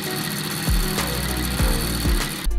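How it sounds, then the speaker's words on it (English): Power drill boring through wall bracing board while running cables, a steady loud motor whine with several sharp dips as the bit bites and catches through the timber, no voices. "Just drill through a bit more."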